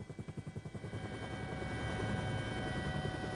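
Forest police helicopter flying over the Rondônia colonization region, its rotor thumping in a fast, steady pulse that fades into a continuous loud drone of engine and blade noise.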